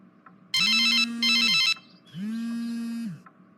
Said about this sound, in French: c'est mon chef qui m'appelle.